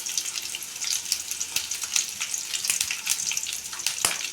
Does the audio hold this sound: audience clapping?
no